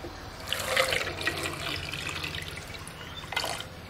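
Water is poured into a pot of eggs for boiling, giving a splashing, trickling flow that swells in one longer burst early on and a shorter burst near the end, close and moderately loud.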